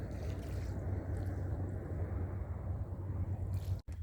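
Steady wind buffets the microphone on a boat at sea during a fishing trip, a continuous low rumble with a brief dropout near the end and no talking.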